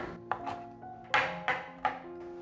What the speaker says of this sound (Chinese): 那现在我们就把这个黑木耳继续切碎